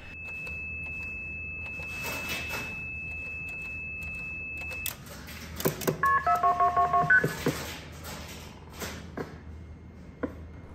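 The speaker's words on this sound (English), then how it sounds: "I'm going to place a long distance call over the trunks that use these E signaling units" A telephone placing a long-distance call over old trunk lines, with a steady dial tone followed by a quick burst of about a dozen touch-tone digits, faint and alone.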